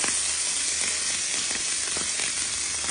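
Marinated fish, seasoned with sea salt and oil, frying in a pan with a loud, dense, continuous sizzle and hiss, close and steady with no voices.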